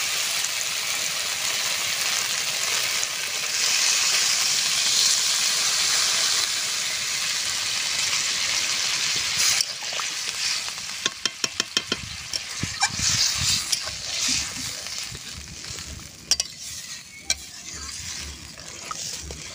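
A pan of potato and soybean curry sizzles steadily, then water is poured in and the hiss gives way to bursts of bubbling, spattering and clinks of stirring. There is no talk.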